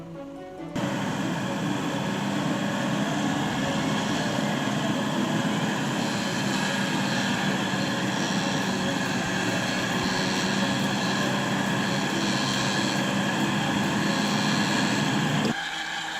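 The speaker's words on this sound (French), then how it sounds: "Le treuil à la rescousse sera la seule solution de se sortir de ce trou." A winch runs steadily as it hauls an Atlas off-road vehicle out of a muddy rut on slippery, greasy ground; a continuous loud mechanical drone holds for about fifteen seconds, starting and stopping abruptly.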